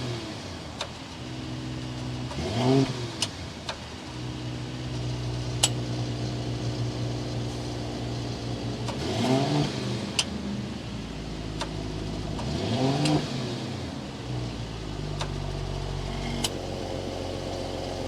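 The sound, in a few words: 2022 Mercedes-Benz S500 turbocharged inline 6 exhaust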